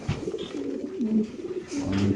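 BFC club racing pigeons coo in low, wavering, drawn-out phrases, close by, with a couple of brief knocks and rustles between calls.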